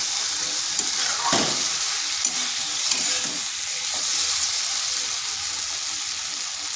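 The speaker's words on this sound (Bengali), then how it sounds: "এটা ভালো করে এই মশলার সাথে কষিয়ে নিচ্ছি" Flat beans cooking with green and dried chilli in a pan give off a steady, close sizzle, with a few scraping stirs of a spatula near the start and no talk.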